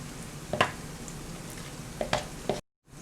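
Pakoras sizzling in hot oil as they are turned to fry the other side, a steady low crackle broken by a few soft clatters of the turning spoon, close and quiet, with no talking.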